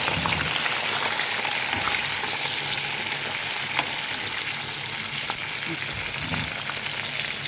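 Onions and chilies fry in a pan for tuna biryani, a loud, dense, steady sizzle with occasional stirring scrapes, heard close with no talking.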